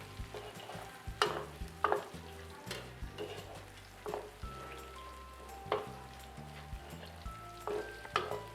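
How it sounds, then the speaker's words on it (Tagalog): Garlic sautéing in a pan for goat kaldereta, a low steady frying hiss under repeated sharp clacks and scrapes of a utensil stirring against the pan. "throw our garlic, saute it in a few minutes until it's turned brown"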